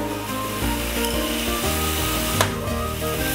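Masala of garlic ginger paste, salt and red chilli powder sizzling and frying in a pan for Punjabi dhaba-style rajma, a steady close crackling hiss with light stirring scrapes.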